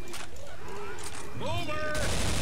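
Gunfire in the zombie shooter Left 4 Dead, with rapid bursts of shots running continuously under excited overlapping voices of players, plus tonal game effects and a louder blast toward the end.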